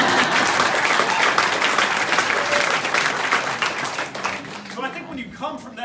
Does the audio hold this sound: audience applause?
yes